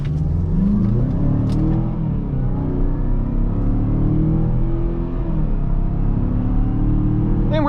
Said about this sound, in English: You actually heard a little bit of turbo squeal.